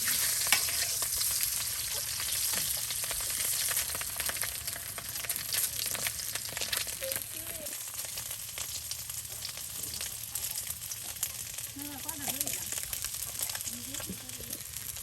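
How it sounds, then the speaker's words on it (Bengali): Eggs frying in oil in a village kitchen, a steady hiss and crackle that holds throughout, fairly quiet, with faint stirring and a brief voice in the background. "ডিমগুলো কিন্তু একদম সুন্দর করে ভেজে নেওয়া হলো"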